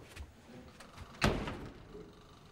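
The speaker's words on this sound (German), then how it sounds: "Ich hau die Tür zu und sag, der Wind hat's zugehauen." A door slams shut once in a rural farmhouse stage play, a sharp, loud thud in the middle of a quiet stretch with faint room noise around it.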